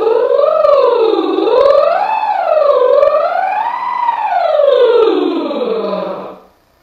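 A singer's lip roll imitates a siren, a buzzing, fluttering voice that glides smoothly up and down in wavering sweeps, loud and close, before fading out at the end.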